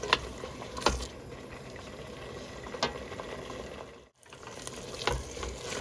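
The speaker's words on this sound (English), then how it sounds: "It's been simmering away for about 15 minutes" Plum butter cooked with gin and vodka simmers in a pan, giving a soft, steady bubbling sizzle with a few louder stirring clicks and scrapes and a brief dip near the end.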